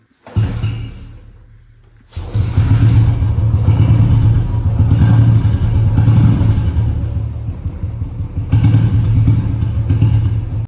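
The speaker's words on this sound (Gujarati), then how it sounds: "બુલેટનો અવાજ આવે ભાઈ બહુ જોરદાર આવે એકદમ ગાજે સાયલેન્સર" A Royal Enfield Bullet motorcycle booms through its silencer, a loud close deep thumping exhaust that fades briefly, then surges again and holds a heavy rumble with a short dip before swelling once more.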